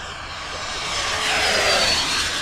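An HSD Hobby Super Viper RC jet on an 8S setup runs at full throttle down the runway center line, a steady rising jet whine that swells louder as it nears, with no voices.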